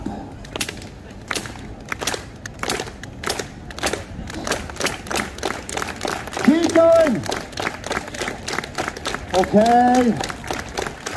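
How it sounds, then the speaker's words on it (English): A stage audience claps in unison at a show, sharp regular claps repeating in a fast steady rhythm, while a performer speaks briefly over them and a few voices whoop and exclaim near the end. "everybody, please join in one last time and clap."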